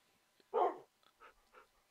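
A tamed wolf in the Minecraft video game attacks a sheep, giving one loud, close bark followed by a few softer, shorter yips and whimpers spaced apart.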